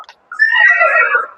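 A single horse whinny rises and wavers for about a second, loud and close, with a brief squeak just before it.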